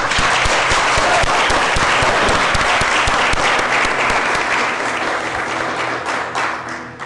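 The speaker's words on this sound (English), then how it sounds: "Let's give a round of applause to kick things off this morning." Sustained audience applause at the NASDAQ opening bell ceremony in Times Square, New York, a dense, loud wash of many hands clapping that stays steady for several seconds before easing slightly toward the end.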